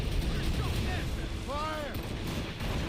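Booming naval cannon fire from sailing warships in Assassin's Creed Rogue, a continuous heavy rumble of battle with voices shouting over it.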